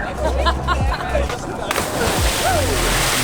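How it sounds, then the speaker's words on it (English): People leap off the roof of a liveaboard tour boat in Komodo National Park, Indonesia, and a loud splash hits the water, with voices and shouting around it and sloshing after. "They are jumping off the roof of the boat into the water."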